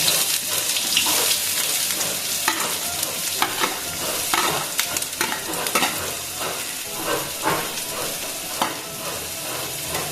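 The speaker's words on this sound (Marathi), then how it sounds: "या तेलामध्ये एक चमचा आपण कांदा टाकूया" A spoonful of chopped onion fries in a little oil for a Konkani fish curry, making a loud, continuous sizzle close by, broken by the scrapes and clatter of stirring throughout.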